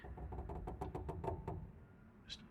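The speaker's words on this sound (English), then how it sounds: "Just tapping, huh?" Light tapping at a door in a quiet building, a string of about ten faint, evenly spaced knocks followed by silence and a brief soft noise.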